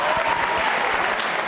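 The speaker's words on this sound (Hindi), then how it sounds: "तालियां बजाइए इनके लिए।" Brief burst of steady audience applause for children at a school quiz show, continuous dense clapping throughout with no pauses.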